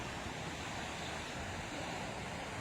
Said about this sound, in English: at least you can see the waves, one of those small waves crashing into the rocks